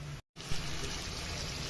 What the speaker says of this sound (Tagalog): Tapos unya, butangan ako tubig gamay.